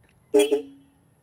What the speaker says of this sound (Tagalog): Ito yung tunog ng ating busina.